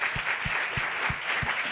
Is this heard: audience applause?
yes